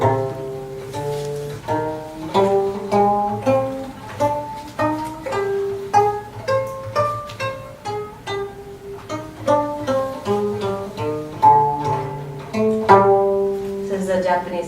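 A plucked string instrument, the Korean gayageum, plays a slow melody in the Japanese hirajoshi tuning, with distinct single notes and ringing decays in an unhurried rhythm, close and clear without speech.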